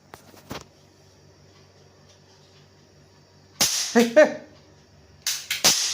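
Two bursts of sharp cracking pops from a toy cap gun during Diwali, a cluster of quick snaps followed by a couple more after a pause, close and loud.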